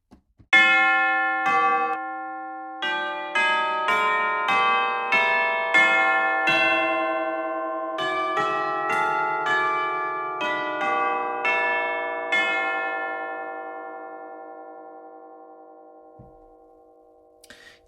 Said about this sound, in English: let's hear these tubular bells here